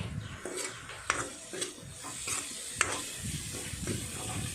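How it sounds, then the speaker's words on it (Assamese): Garam masala spices being stirred and fried in hot oil in a pan over a low gas flame, with a steady close sizzle broken by scrapes and clinks from the stirring. "ভাজি আছোঁ।"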